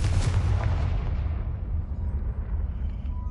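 Confringo blasting spell explosion in a Harry Potter game, a heavy booming blast at the start followed by a long low rumbling decay with fading debris.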